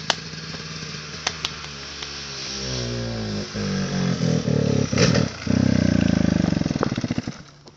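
A 2005 KTM 250 SX dirt bike engine catches after a pop start, then idles and revs in uneven bursts, loud and close, with no one talking.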